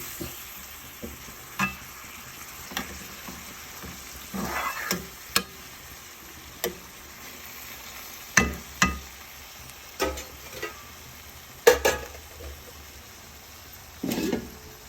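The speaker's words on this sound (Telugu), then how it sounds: "అలా కిన్నెలో కలుపుతూ ఉంటే వేపుడు అయిపోతుంది" Bitter gourd curry stirred and fried in a pan, a soft background sizzle punctuated by a dozen or so sharp spoon scrapes and knocks against the pan at irregular intervals, with no speech.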